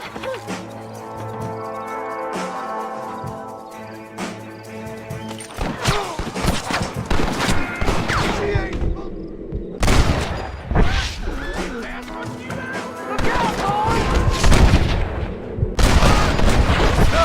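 A Red Dead Redemption shootout fills the clip with dense gunfire: rapid overlapping shots, sharp cracks and heavy booms that keep going without a break, loud and close, with occasional voices mixed in.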